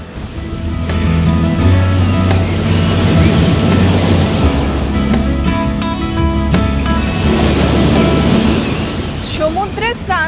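Sea waves wash steadily onto Puri beach, a continuous broad surf roar that holds for the whole stretch, mixed with a crowded shoreline's murmur of voices and a low humming drone.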